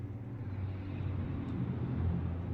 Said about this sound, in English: Listen to the cars, it's muted.